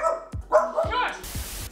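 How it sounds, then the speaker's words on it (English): Dogs barking at home as someone unloads a car, a few sharp barks and yips over a couple of seconds, close and fairly loud, mixed with other household noise. "Okay, the dogs are barking"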